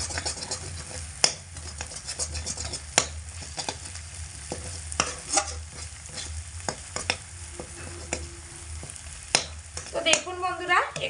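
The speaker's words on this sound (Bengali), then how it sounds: "এভাবে করে অনবরত নাড়াচাড়া করলে ডিমটা খুব সুন্দরভাবে ভাজা হয়ে যাবে।" Scrambled egg frying in a pan and stirred constantly with a utensil, a steady soft sizzle under repeated scraping and tapping strokes at an irregular rhythm, close and alone.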